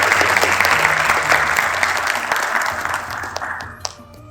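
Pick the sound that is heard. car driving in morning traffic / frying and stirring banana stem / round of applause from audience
round of applause from audience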